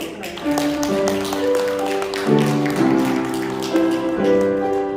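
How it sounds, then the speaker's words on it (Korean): A church congregation claps together for members' birthdays during a Sunday service, a dense run of handclaps mixed with sustained tones of music and voices in the room. "우리 다 같이 우리 생일 축하 박수"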